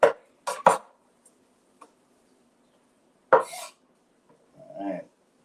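A knife chops an onion on a board in a few sharp, close cuts separated by quiet pauses, followed by a short voice sound.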